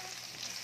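Shrimp paste being stirred into a pan of young bamboo shoot stew, a brief steady sizzle with soft scraping of the ingredients, close and even, no voices.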